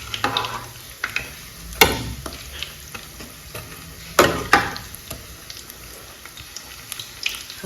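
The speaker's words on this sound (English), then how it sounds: "Right, so I've fried them all off." Scotch eggs, some made with black pudding, fry in a pan with a steady sizzling bed, broken by a few sharp scraping knocks as they are turned, sounding near and fairly loud with no voices.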